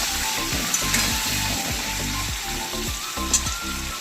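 Potatoes with salt and turmeric being stirred and fried in an open pressure cooker, a loud close sizzle broken by repeated scraping strokes of a spatula against the pot.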